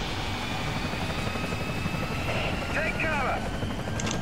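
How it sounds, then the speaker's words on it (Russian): Helicopter in the Resident Evil 4 video game gives a steady, loud rotor and engine drone throughout, with a faint whirring sweep in the middle. "Но нас прикрыл вертолет."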